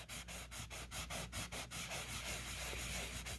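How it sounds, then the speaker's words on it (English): Dry rag rubbed briskly over an applied decal, a close rhythmic swishing scrub repeating about every fifth of a second, then blending into a steadier rubbing sound, with no talking. "Rub this for 10 minutes if you want, all over this decal."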